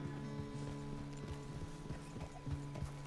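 Horse hooves clip-clop at a walking pace in Red Dead Redemption 2, soft repeated hoof falls beneath a steady tonal music bed.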